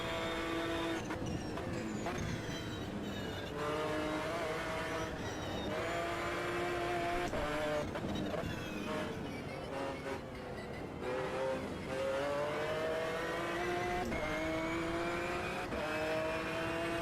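A race car engine in the Automobilista 2 racing sim drones steadily, with pitch rising and falling through gear changes and revs, heard alone at moderate level without any talking.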